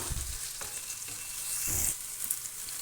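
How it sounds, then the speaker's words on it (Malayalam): Onions sautéing with salt in a pan for Kerala beef roast make a quiet sizzle with a few low stirring scrapes, faint and close, no voices. "ഈ ഉള്ളിയിലേക്ക് ആവശ്യമായിട്ടുള്ള ഒരു അര ടീസ്പൂൺ ഉപ്പ് കൂടെ ചേർത്തിട്ട് നന്നായി ഒരു ഗോൾഡൻ ബ്രൗൺ നിറമാകുന്നത് വരെ ഒന്ന് വഴറ്റിയെടുക്കാം"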